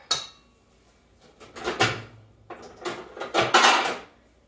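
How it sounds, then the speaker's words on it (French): A square 8-inch baking dish is pulled out and set down, giving a few clattering clinks and knocks of cookware close by, spaced out with quiet gaps between. "je vais me sortir un plat de cuisson"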